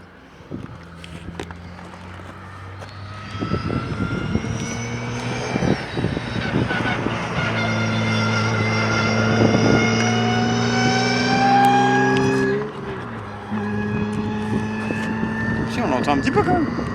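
A BMW E92 car engine is heard driving at a distance, its pitch rising and falling as it revs. The note swells to a sustained drone mid-clip and then drops away. Voices talk over it at times.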